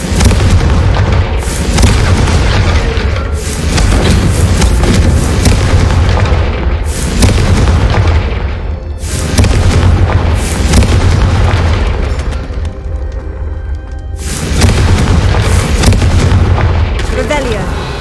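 Repeated Confringo fire spell blasts in Hogwarts Legacy, heavy booming explosions arriving every few seconds in loud surging waves, with talk mixed into the steady roar of combat.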